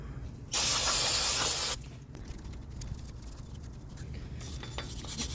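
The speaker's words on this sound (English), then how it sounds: "you're gonna just want to spray this down real good" A single close burst of aerosol cleaner sprayed onto Lexus IS250 rear brake parts hisses loudly for about a second, then cuts off, leaving quieter background noise.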